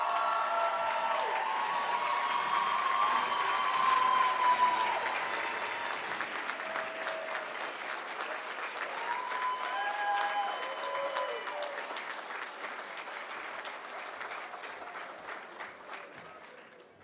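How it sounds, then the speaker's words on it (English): Audience applauding graduates at a spring commencement ceremony, sustained clapping from a large crowd that swells early and slowly tapers off, with a voice speaking over it partway through. "Let's have a nice round of applause for all of our graduates"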